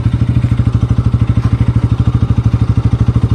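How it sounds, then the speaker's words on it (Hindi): A Bajaj Pulsar RS200 BS6 motorcycle idles close by, its exhaust giving a loud, rapid and very regular thumping pulse with no voices. "एग्जॉस्ट नोट तो इस बाइक में काफ़ी अच्छा आ रहा है"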